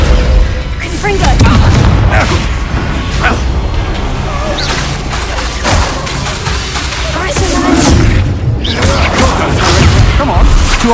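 Confringo fire spells blasting in Hogwarts Legacy combat, a run of loud booming explosions and whooshes piling over dense battle noise for the whole stretch, with a voice casting spells in between.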